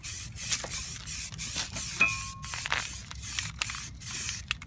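Spray primer hisses from an aerosol can onto a car wheel in short repeated bursts with brief gaps between them, close and fairly loud, with no talk.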